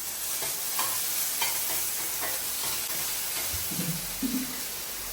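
Ginger garlic paste frying in a pan with goat fat, a steady close sizzle with scraping stirs and a few faint clatters of the spoon against the pan.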